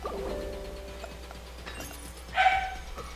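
A neighbour's dog gives one brief bark with a couple of faint yips before it, fairly distant over a quiet, faintly humming background.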